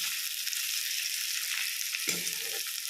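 Onions frying in a pan for chicken curry, a steady high hiss of sizzling oil throughout with a brief stirring scrape near the end, close and even, no voices.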